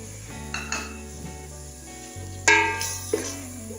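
Spices and white chickpeas fry in hot oil with a steady soft sizzle, broken by a few sharp clanks and scrapes of a spoon stirring against the pan.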